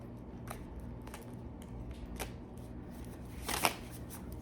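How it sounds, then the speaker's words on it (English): A deck of cards being shuffled close by, very quiet overall: soft repeated riffles and flicks spaced through the stretch, ending in a louder, denser burst of riffling near the end, with no talking. "you don't have to watch me shuffle if you don't want to"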